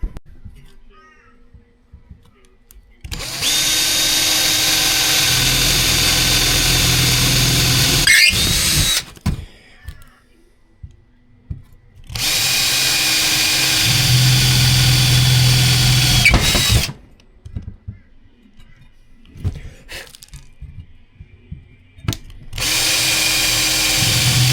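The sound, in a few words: power drill drilling holes for kitchen install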